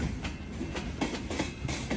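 A freight train with rail cars from several former railroads, including ex-Union Pacific and ex-Rock Island units, rolls past, its wheels clacking in a steady repeating rhythm over rail joints, loud and close with no talk.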